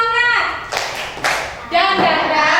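Children in a classroom clap a rhythmic spirit-building clap, with a few sharp bursts of hand claps between their chanted, sing-song voices.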